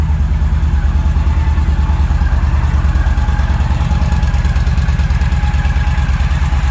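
A stock 2011 Yamaha Stryker motorcycle idles close by with a steady, loud, deep, even rumble that holds unchanged throughout.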